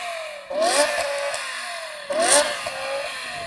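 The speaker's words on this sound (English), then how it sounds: "Now let's quickly compare the sound of these cars' engines." A BMW M5 engine gives two sharp, loud blips of revving, each rising quickly in pitch and then falling back to a steady idle, heard up close with no talking.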